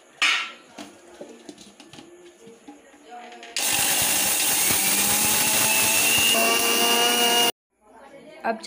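Electric kitchen grinder pulverising roasted cumin and spices for chaat, a loud continuous whir lasting about four seconds before cutting off abruptly, preceded by a few clinks and handling sounds.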